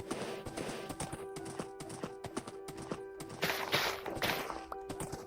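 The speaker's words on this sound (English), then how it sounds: "Pretty speedy horse." Horse hooves clip-clop steadily on the ground in Minecraft, quick evenly spaced hoofbeats over a sustained background tone, growing slightly busier toward the end.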